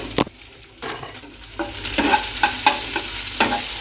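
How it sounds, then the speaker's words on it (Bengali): Garlic, chilies and onions frying in a pan, a sizzle that swells and grows louder after the ingredients hit the oil, broken by repeated close spatula scrapes and knocks. "এর মধ্যে আমি রসুনগুলো দেবো লঙ্কাগুলো দেবো পেঁয়াজগুলো দেবো"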